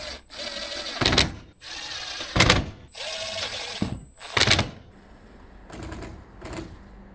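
A power driver sinks screws while a MaxxAir roof fan is installed in a DIY camper van build. Several short, whirring bursts come close up, separated by quiet pauses and softer handling sounds.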